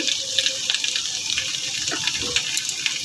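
Water being poured into a pan over dry ground spices (cumin, coriander, chilli powder) for a vegetarian beetroot, carrot, cauliflower and pea dish, with a short, close, splashing hiss and bubbling that lasts about three seconds.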